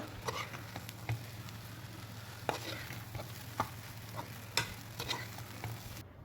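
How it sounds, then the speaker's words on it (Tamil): Egg fried rice being stirred in a frying pan: soft sizzling under a low steady hum, punctuated by intermittent scraping and tapping of the spatula as rice is mixed into the egg. "கொஞ்சம் ரைஸ் ஆட் பண்ணி அதையும் நல்லா மிக்ஸ் பண்ணி விட்டுக்கோங்க"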